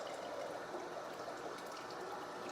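Cold water from the fridge pours into a cup in a continuous, close, splashy stream that holds steady without any talk.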